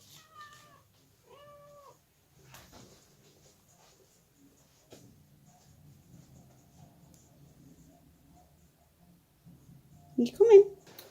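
A house cat meows twice early on, soft and near, then quiet movement and a louder close meow near the end, with a person's voice briefly present.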